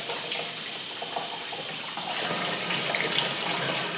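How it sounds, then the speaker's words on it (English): Water poured onto orchid bark in a glass vase, a steady close trickling splash running the whole time with no voices. "I'm going to give it a little bit of water to help some of the bark settle."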